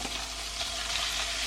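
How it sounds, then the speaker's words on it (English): Fresh beef brisket stir-fried in hot sesame oil in a pot for Korean beef and radish soup, giving a steady, close, loud sizzle with faint stirring scrapes, no voices. "we're going to basically stir fry our beef till it gets a little bit of browning on it"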